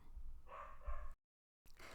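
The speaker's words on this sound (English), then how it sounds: "sorry about the barking dogs in the background" Dogs barking in the background: a couple of muffled barks at moderate distance, brief and fairly faint, followed by a pause and another faint bark.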